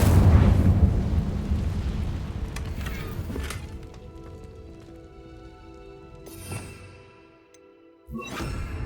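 An Incendio fire spell cast in Hogwarts Legacy, a loud roaring whoosh of flame that swells and slowly fades into quiet ambience, followed by a brief sharp flare near the end.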